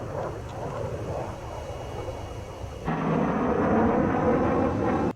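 The PACFA super plane jet from Ace Combat 7 roars in, a broad rumbling rush that abruptly swells louder and brighter halfway through and holds steady.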